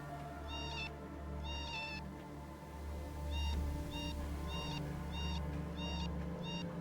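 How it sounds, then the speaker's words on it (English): Repeated cat meows inside a video game, set in an alley with the cat perched just above, come in short bursts over a steady low background hum, fairly clear and close. "You can hear the cat meowing."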